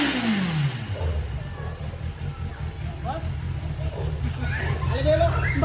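A stock Kawasaki ZX10R superbike engine revs with a low, steady rumble through the whole stretch, given partial throttle rather than a full blip, with faint background voices and distant barking over it.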